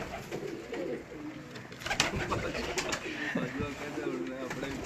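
Pigeons cooing at a breeder's loft, soft repeated coos amid a busy background with people talking nearby.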